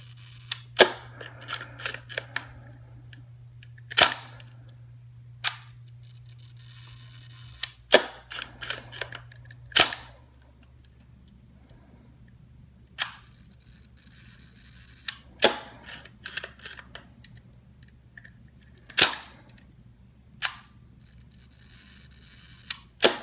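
A Hasselblad 500CM camera shutter firing repeatedly at a 1 second speed, sharp mechanical clicks and clacks spaced a few seconds apart over a faint steady hum, close and with no talking.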